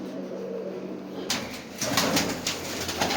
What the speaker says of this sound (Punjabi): ਆਹ ਕਬੂਤਰ ਆ ਗਏ ਭਰਾ